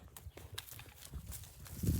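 Goat hooves clop and shuffle on hard ground in quick, uneven steps as the goats move about close by.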